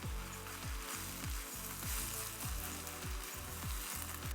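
Chow mein noodles and vegetables sizzle and hiss in a hot pan as sauce is worked in, with steady frying crackle broken by regular scraping stir strokes roughly every half second, close and continuous with no talking.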